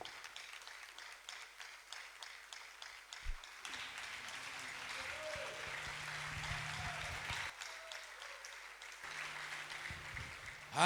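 A church congregation applauding during a spiritual renewal service, steady clapping at moderate distance with crowd noise and a few brief voices in between.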